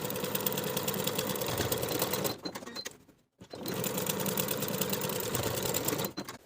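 A sewing machine stitching a weekender bag pocket from top to bottom in two steady runs of fast mechanical whirring, with a brief pause between them, close and clear with no talking.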